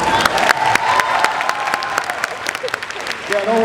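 Audience at a Too Many Games 2019 convention panel claps in a burst of applause, dense and loud at first, then thinning into scattered claps with a voice rising near the end.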